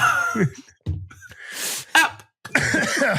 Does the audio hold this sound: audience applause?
no